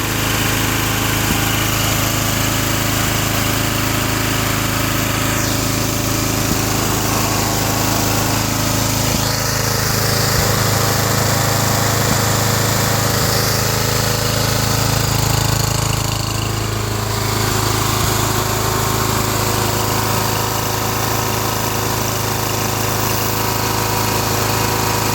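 John Deere 210 lawn tractor with a 16 HP Kohler K341 engine running at high idle around 3,800 RPM, a loud, steady, close mechanical drone with a constant low hum, sustained throughout without talk.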